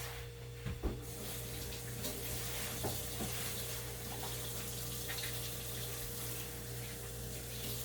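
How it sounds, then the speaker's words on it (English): Hands are washed under a running sink tap after utility gloves come off during a sterile competency routine; a steady, soft rush of water fills the whole stretch, with a faint knock near the start. "Then I'm going to wash my hands."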